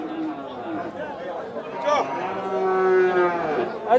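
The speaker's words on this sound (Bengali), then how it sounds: "আমরা দেখছি গরুটি দেশাল জাতের গরু।" A deshi-breed cow at a busy cattle market gives a long, drawn-out moo close by, with crowd chatter and voices around it.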